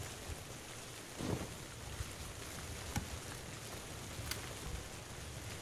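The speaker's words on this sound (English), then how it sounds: "The rain gets heavier." Heavy rain in the video game PUBG on Xbox One X pours as a steady dense hiss, even and continuous, with a few faint louder spatters breaking through.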